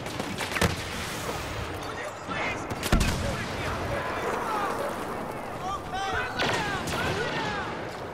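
Star Wars Battlefront blaster fire crackles continuously in a busy battle, with repeated shots and distant explosions running under frequent overlapping player chatter.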